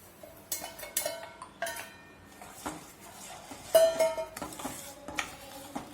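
A spoon stirs homemade chocolate syrup of sugar and cocoa powder in a pan, giving intermittent metallic clinks and scrapes in quick bursts separated by brief quiet stretches.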